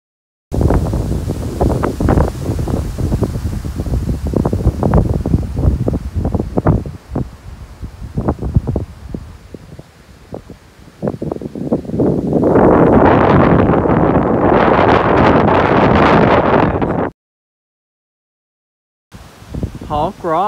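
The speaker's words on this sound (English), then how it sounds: "It is windy." Strong gusting wind roars across the microphone at Hawk Rock on the Appalachian Trail, rising to a loud broadband rush before cutting off, with a person talking over it at first.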